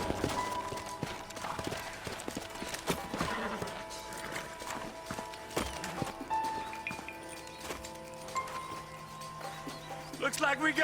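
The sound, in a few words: horses trotting in video game Red Dead Redemption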